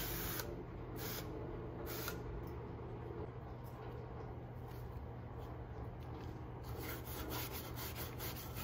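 A brush scrubs a car engine bay after a light spray of water, giving a steady, soft back-and-forth rubbing with faint periodic swishes throughout.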